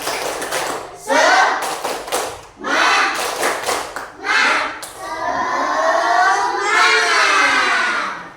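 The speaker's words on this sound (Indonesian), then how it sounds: "Yuk semuanya, 1, 2, 3, tepuk semangat." A class of children does a rhythmic 'tepuk semangat' spirit clap at a madrasah, with sharp bursts of clapping in a patterned beat mixed with loud, chanting young voices close by.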